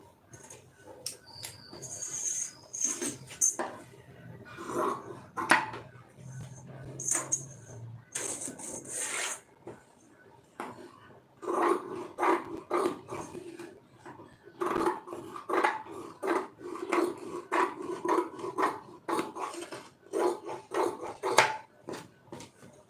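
Scissors cut through blouse lining fabric on a tailoring table, giving a close series of crisp snips and light fabric rustles in uneven bursts, with no talking.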